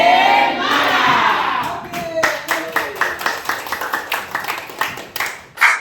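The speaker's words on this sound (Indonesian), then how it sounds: "Jadi kita harus bertepuk tangan untuk bersemangat" A classroom of students claps together in a spirit clap, starting with crowd noise and shouting, then breaking into a run of sharp, rhythmic claps that rise to a loud finish, with voices over the top.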